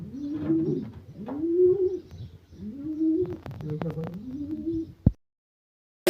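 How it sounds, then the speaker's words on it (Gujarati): Pigeons coo close by in a repeated series of four low, rolling calls, followed by a sharp click and then silence. "આ કબૂતરી જોડ લગાવવા તૈયાર છે કબૂતરો મારે છે નવા કબૂતરો"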